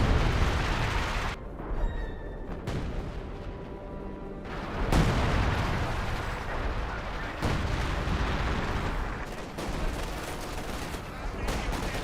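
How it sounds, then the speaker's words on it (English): Artillery barrage in the strategy game Company of Heroes 2, heavy booming impacts and scattered gunfire rolling in continuous waves, with a few sharp blasts and a faint voice underneath. "one barrage up here, one barrage back here, or back here"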